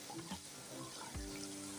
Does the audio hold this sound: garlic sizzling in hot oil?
yes